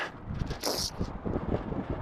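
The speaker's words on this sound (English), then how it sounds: "It's a little chilly out today, a little windy." Wind rumbles against the microphone in irregular low gusts, with a brief hissy burst partway through; no one speaks.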